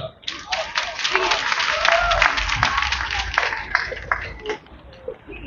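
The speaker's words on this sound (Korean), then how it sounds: "우리 청년 이상훈님께 다시 한번 큰 박수 주시기 바랍니다" Sustained applause and clapping from the audience at a Suwon citizens' memorial for the first anniversary of the October 29 Itaewon disaster, filling the whole stretch with dense, uneven claps.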